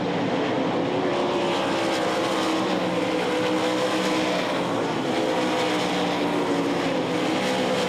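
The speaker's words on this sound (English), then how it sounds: "Leonard Lee running hard in that 12S car" 1200 lb race cars racing on a track at a nationals event, a loud, continuous engine roar that holds close and steady throughout with no talk over it.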